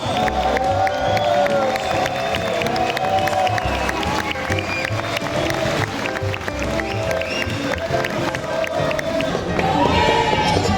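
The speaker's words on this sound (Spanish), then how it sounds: "un aplauso" Crowd applause and cheering at a Comic-Con event in Málaga, a continuous noisy mass of clapping, shouts and whistles from a large audience, loud and sustained for the whole stretch.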